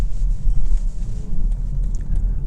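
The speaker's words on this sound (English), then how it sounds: "Okay, pulling onto the interstate now." A 2024 BMW X5 xDrive50e accelerating onto an interstate, heard from inside the cabin: a steady, loud low road-and-engine rumble with faint wind hiss, continuous and without talk.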